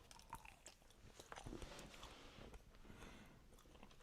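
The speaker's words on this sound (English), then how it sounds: "Sorry for the chewing." Close, quiet chewing of a mini Mars bar, soft sticky mouth sounds and small crunches continuing steadily with no talking.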